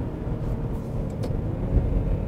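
Maserati Levante Hybrid held in gear in manual mode, its engine note droning at high revs with a low rumble that swells slightly toward the end.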